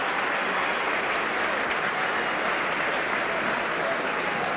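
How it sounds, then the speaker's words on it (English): Warrington rugby league fans at a championship final applaud a departing substituted player, a steady wash of distant crowd clapping and noise filling the stadium throughout. "Getting a good round of applause from the Warrington fans."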